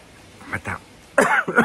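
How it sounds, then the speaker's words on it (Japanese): Two short muffled coughs from a person with a sore throat come first, then two louder, harsher coughs close to the microphone in a quiet indoor room. "ちょっと咳で出ますね。"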